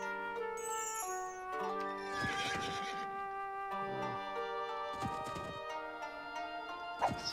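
Horses in the medieval strategy game Age of Empires 2 HD, with a few short clip-clop and whinny bursts amid steady game music and chimes, fairly faint and mixed into the soundtrack.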